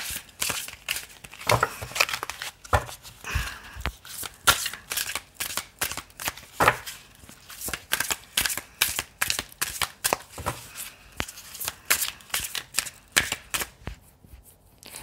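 Tarot cards shuffled again and again in quick, papery riffles and bursts, close and fairly loud, with no voices.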